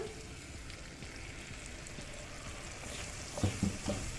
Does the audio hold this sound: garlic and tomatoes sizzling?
yes